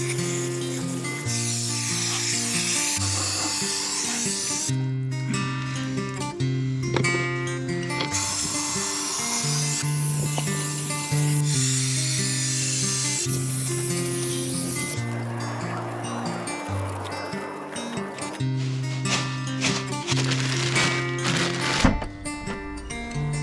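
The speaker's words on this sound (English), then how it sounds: "Just spray a load on the inside." Brake cleaner sprayed inside an oily Ford Escort Mk2 differential, bursts of hissing aerosol coming and going in short blasts, with tonal background music over the top.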